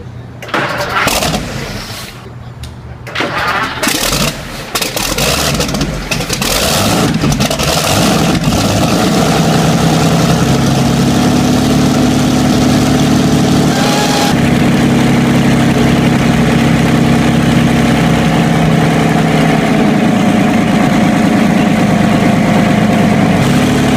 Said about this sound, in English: See the Packard 512 Supercharged engine fire up for the first time since its restoration.